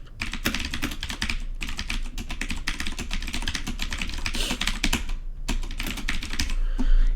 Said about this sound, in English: I want to type this down